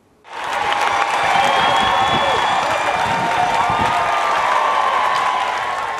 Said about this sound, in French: Acclamé par la foule